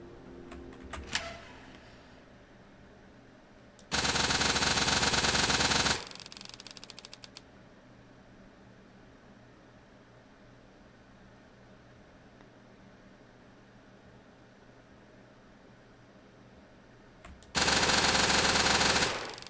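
Two loud, sustained bursts of rapid automatic weapon fire in the video game My Friendly Neighborhood, each lasting about two seconds, separated by a quiet stretch of low ambient hum.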